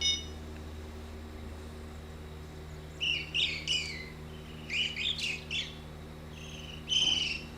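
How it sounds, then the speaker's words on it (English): A bird calls from a tree in a lakeside fishing game, several short bright bursts of chirping and twittering spaced over a few seconds, moderately near against a quiet steady ambient hum. "That's some kind of bird up in this tree."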